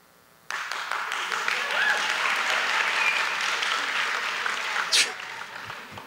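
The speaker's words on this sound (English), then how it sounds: "nice job of applauding for yourselves" Guests at a Fort Walton Beach Chamber of Commerce installation breakfast break into sudden, sustained applause that fills the room, with a brief voice speaking over the clapping.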